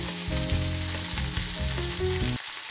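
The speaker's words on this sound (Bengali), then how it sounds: "পেঁয়াজ আর টমেটো কুচিগুলো খুব ভালো করে ভেজে নেব যতক্ষণ না গোল্ডেন ব্রাউন কালার হয়ে যায়।" Chopped onion and tomato fry in oil for a chicken and potato curry, giving a continuous near sizzle alone for a few seconds with soft background music, ending abruptly.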